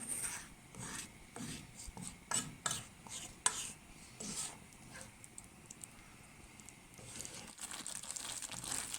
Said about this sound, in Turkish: Karıştırmaya devam edelim.